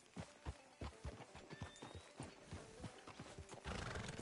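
Horse hooves clip-clop in Red Dead Redemption 2, a steady, fairly close walking rhythm of crisp knocks with a whinny mixed in, quiet overall and without talk.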